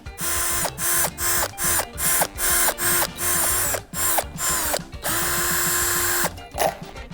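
A Dnipro-M CD-218 cordless screwdriver whirs in a rapid series of short on-off bursts, then runs in two longer steady stretches, close and loud with no talk.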